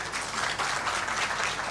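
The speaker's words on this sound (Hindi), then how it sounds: "तो तालियां चाहूँगा मैं इनके लिए" Audience applause at a speech event in Indore, a steady dense wash of clapping from many hands throughout, moderately loud and even, with no talking over it.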